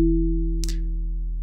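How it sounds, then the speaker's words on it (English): A synthesizer filter rings as a decaying sine wave with a Rhodes-like quality: a steady, pure low tone that fades slowly, broken by one short bright click. "And now we have a decaying sine wave"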